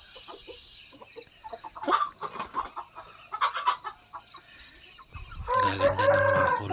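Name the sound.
young Shamo Aseel gamecock stags crowing and clucking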